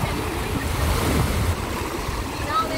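Large sea waves break and wash over a Salvadoran beach in a steady, loud roar of surf, with wind buffeting the microphone throughout and no clear break in the rush of water.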